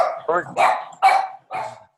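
A dog barks several times over a phone line in a short burst of loud, separate barks with gaps between them, heard alone without talk.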